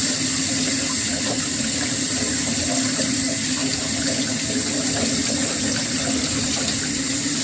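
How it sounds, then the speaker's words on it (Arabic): Hot water runs from a kitchen tap in a steady, loud, unbroken rush of hiss and splash that holds at an even level from start to finish, with no voices. "ميه بقى سخنه من الحنفيه"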